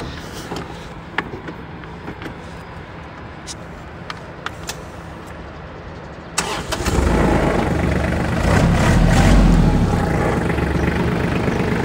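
After a few faint clicks and taps, a Kubota KT235 engine cranks and catches, then settles into a close, loud, steady rumble that runs to the end.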